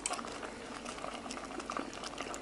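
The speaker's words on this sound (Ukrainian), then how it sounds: "Зганянка в мене кипіла ще годину, квасоля і капуста разом." A pot of Transcarpathian lenten stew of beans and cabbage boils steadily, with dense, continuous bubbling heard up close and no one talking.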